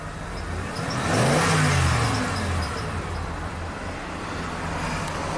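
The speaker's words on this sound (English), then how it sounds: "Oh, now it wants me to snap the throttle," A 1992 Ford F150 truck engine with an idle problem revs up once as the throttle is snapped, the rise and fall in pitch sitting over steady engine rumble, close and fairly loud.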